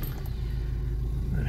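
A 1995 model car engine runs at a steady idle after being started, a close, continuous low rumble with no clear revving.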